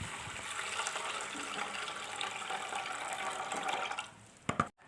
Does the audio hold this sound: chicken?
no